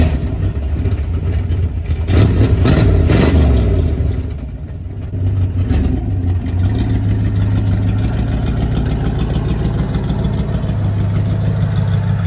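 A 1979 Chrysler 300 engine runs rough near the mic, idling unevenly with a couple of revs early on, then settling into a steady low rumble.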